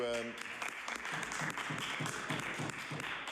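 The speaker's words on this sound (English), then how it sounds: "Thank you, Mr. Speaker, and for that raucous applause." Members in the House of Assembly chamber applaud, a brief burst of clapping and desk-tapping with rhythmic thumps, while a voice speaks over it.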